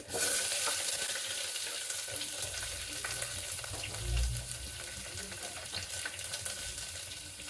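Onions and red chillies sautéing in a pan for a ridge gourd curry, a steady close sizzle and crackle of frying with occasional stirring scrapes, continuous throughout with no talk.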